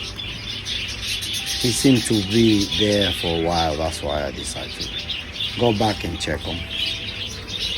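A hatching budgie chick chirps through its shell, weak rising peeps in short clusters, close by amid a chorus of other budgies twittering and someone talking over it.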